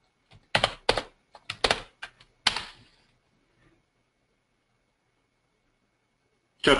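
Someone types a message into a chat on a computer keyboard, with quick bursts of crisp, close keystrokes and a short pause, then a final click after a few seconds of near silence.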